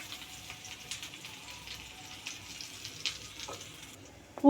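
Cumin, garlic, ginger and chilli sautéing in hot oil for a vegetable donne biryani, a soft, steady sizzle and crackle with occasional stirring scrapes, fairly quiet and with no talk.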